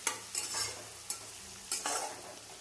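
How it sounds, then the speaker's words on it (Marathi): Chopped onions roasting in a pan for upama, stirred with a utensil: a low steady sizzle broken by four sharp scraping strokes at uneven intervals, close and clear with no talking. "लालसर असा कांदा भाजून घ्यायचा आहे आपल्याला"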